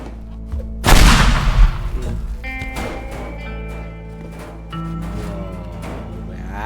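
A propane tank blows up in the destruction game Teardown, a loud burst that rolls into a dense crackle of debris and smaller pops, with game music and ambience continuing underneath.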